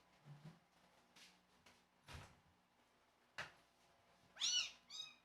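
A pet cat meows nearby, a couple of short, high cries near the end, after a few soft thumps and door-like knocks in a quiet room.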